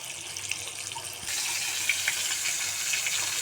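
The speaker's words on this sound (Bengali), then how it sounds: "রুই মাছ মাছটা ভাজতেছি।" Rohu fish fries in a pan, a steady hissing sizzle that jumps louder about a third of the way in and then holds, with a few faint pops and no voices.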